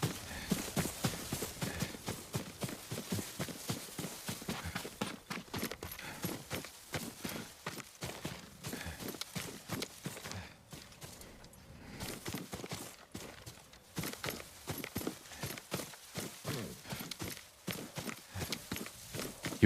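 Horse hooves clip-clop in Ghost of Tsushima: a steady, fairly quiet walking rhythm of hoofbeats that continues for the whole stretch, with a brief lull midway and no talk.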